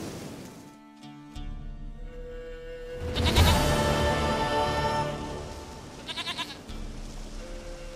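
A goat bleats in the Witcher 3 video game: several wavering, nasal cries of moderate loudness over a low ambient game backdrop, with no talking.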